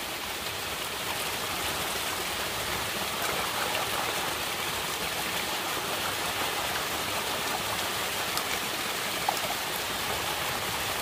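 Water sloshing and rushing during gold panning, where only a little water is available, making a continuous, even, hissing wash that runs throughout.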